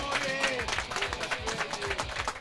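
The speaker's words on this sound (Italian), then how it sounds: "un applauso particolare" Studio audience applause on an Italian television programme, a steady moderate patter of many hands clapping for a few seconds, slightly distant and without speech.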